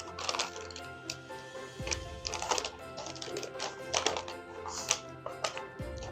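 Christmas wrapping paper being folded and tucked around a present, giving close, soft crinkles and papery taps in short irregular bursts.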